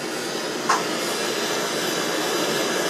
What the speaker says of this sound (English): you can see steam pumping out of here now